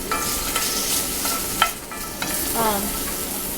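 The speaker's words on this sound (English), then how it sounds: "That's the sizzling you hear." Steady hiss of food sizzling in a hot pan, with a few soft clinks and stirring scrapes over the continuous crackle.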